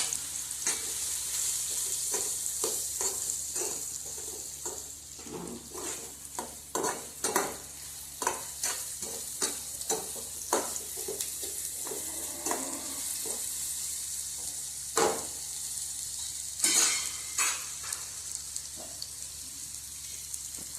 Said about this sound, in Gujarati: હવે આપણે તુરિયા વઘારીશું